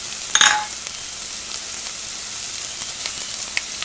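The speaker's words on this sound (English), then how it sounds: "I'm going to saute some onions and garlic right in my sauce pot." Onions and garlic sautéing in a sauce pot give a steady close sizzle and fry hiss, opening with a brief clatter or stir, then continuous crackling frying without talk.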